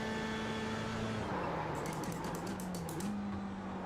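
An F3 race car braking at Spa in a sim racing game, its steady engine drone dropping in pitch with a short run of rapid clicks as it slows, loud and alone.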